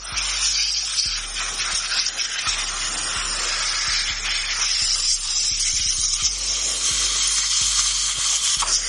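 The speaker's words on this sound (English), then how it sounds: "just adjusting the nitrogen to try to blow that out a little bit better" Nitrogen blowing through an AC contactor gives a steady, loud broadband hiss that runs the whole time, with faint periodic ticks underneath and no talking.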